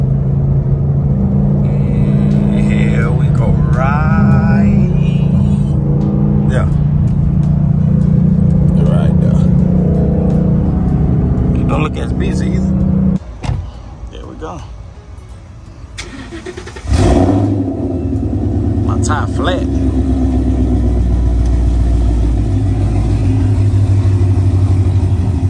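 Tuned Ford Mustang GT V8 rumbling steadily while driving, with a deep low drone and a sharp rev burst partway through, followed by sustained engine noise; faint voices can be heard in the background.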